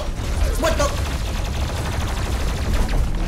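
Dense, sustained rapid gunfire and explosive blasts from the first-person shooter DOOM Eternal fill the whole stretch, loud and continuous, with faint game effects layered over a heavy low rumble.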